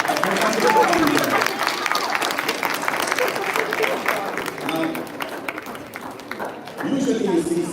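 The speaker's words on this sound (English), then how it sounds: "One more round of applause for a fantastic performance here." A cultural dance and music show audience applauds after a performance, with loud, dense clapping mixed with crowd murmur and voices that thins slightly before swelling again.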